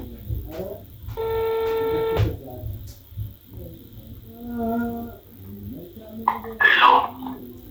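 Ringback tone on an outgoing phone call made to pull a prank: one long steady tone is heard clearly, with background noise and a few short voices and sounds around it.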